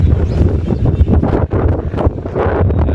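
Strong wind buffets the microphone with loud, rumbling gusts that surge and dip, briefly easing near the middle before roaring back, near a temple in Dwarka, Gujarat.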